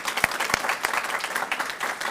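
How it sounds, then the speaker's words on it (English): Graduates at a spring graduation ceremony applaud the supporters in the stands, a dense, steady wash of clapping with a few sharper, louder claps standing out near the start. "Can I give a round of applause from our graduates to everyone in the stands?"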